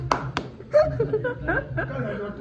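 Two sharp claps open the moment during a home festival welcome, followed by a burst of laughter and chuckling from people nearby.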